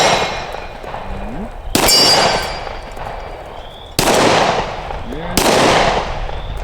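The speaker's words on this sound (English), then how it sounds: "let's see if I can hit anything with this gun now" Three loud, sharp shots from a Smith and Wesson M&P 2.0 10mm pistol fired outdoors, spaced a second or two apart, each with a ringing tail and echo.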